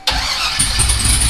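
A truck engine cranks and catches after its starter wire is touched, the starter's whine and the engine's roar coming on abruptly and holding loud and close for about a second.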